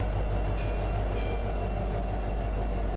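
A BNSF freight train rolls past, led by an SD70ACE locomotive, with a loud, continuous low rumble of wheels and cars and a couple of brief squeals or clanks close by.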